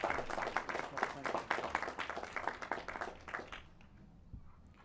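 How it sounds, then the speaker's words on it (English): Graduation commencement audience giving a brief round of applause, a rhythmic patter of many hands heard at moderate distance, tapering off into quiet after about four seconds. "Let's recognize Mr. Dan Moore, Dr. Moore, with applause."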